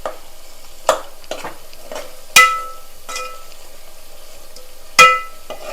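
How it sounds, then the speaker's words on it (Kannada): Onion roasting in a pan for vegetable kurma, quiet low sizzle broken by several sharp metallic scrapes and clinks of a spoon stirring at irregular intervals, close and alone. "ಈಗ ಈ ಈರುಳ್ಳಿನ ಆ್ಯಡ್ ಮಾಡ್ತೀನಿ. ಈರುಳ್ಳಿ ಸ್ವಲ್ಪ ರೋಸ್ಟ್ ಆಗಲಿ."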